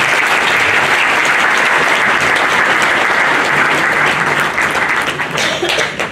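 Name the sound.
audience applause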